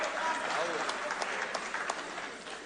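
Applause fills the National Assembly, a dense wash of many hands clapping steadily, with talk blended in beneath it.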